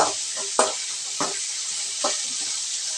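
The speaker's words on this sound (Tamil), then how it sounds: "கொஞ்சமாக நம்ம வதக்கி விட்டுக்கலாம்" Vegetables sauteed and stirred in a pan for veg kurma give a steady sizzle with a few sharp scraping stir strokes spaced through it. No one speaks.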